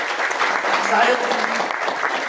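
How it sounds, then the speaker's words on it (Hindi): A seminar audience claps in a steady, moderately loud patter that runs continuously for a couple of seconds with faint voices mixed in. "एक बार हम ताली चाहते हैं।"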